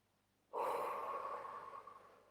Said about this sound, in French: faire quelques grandes respirations avec le nez et la bouche